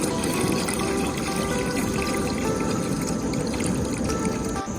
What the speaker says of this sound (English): over here I gotta add water as usual